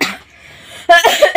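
A single sharp cough bursts out near the end after a soft breathy lead-in, followed by a couple of smaller coughing catches, close and fairly loud, with no talking.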